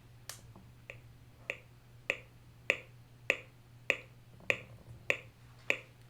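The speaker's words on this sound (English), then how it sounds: "So let me turn the metronome on." Metronome ticking at a steady, even pace, about ten sharp clicks over a faint hum, quiet and alone with no talking.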